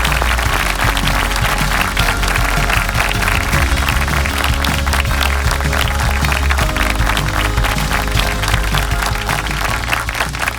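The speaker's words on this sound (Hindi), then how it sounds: "जोरदार तालियां बजाइए हमारे टीम के मेंटर्स के लिए" A crowd claps for the team mentors at a Christmas gospel singing show, dense and sustained applause over booming music throughout.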